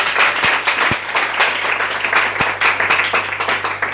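A church congregation claps and applauds together during an Easter sermon, a dense, steady wash of many hands with a few sharper nearby claps standing out, sustained throughout without speech.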